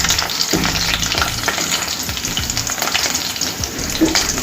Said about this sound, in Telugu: ఒక 2 పచ్చిమిర్చి ముక్కలు, అలాగే ఉల్లిపాయ ముక్కలు